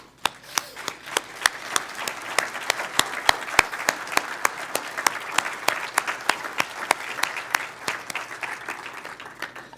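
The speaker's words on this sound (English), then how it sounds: "we'd like to give you a round of applause" An audience at a United Way annual meeting applauds agency partners, a steady, dense round of clapping with a few sharp louder claps standing out near the front, with no talk over it.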